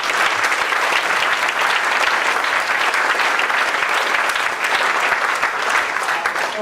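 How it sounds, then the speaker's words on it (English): Steady applause from the audience for a startup panel at a StartupsHK event, dense and even clapping that holds at full strength for several seconds with no talk over it. "let's have a round of applause for our panelists"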